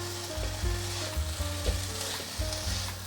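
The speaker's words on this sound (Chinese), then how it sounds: "快速翻炒" Mushrooms and tomato stir-fried with salt, white pepper, turmeric and sesame in a pan, giving a steady close sizzle with stirring scrapes and clatters, no voices.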